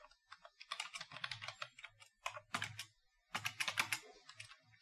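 Typing on a computer keyboard during web page editing: several quick bursts of clicking keystrokes, close and clear, with short pauses between runs and no talking.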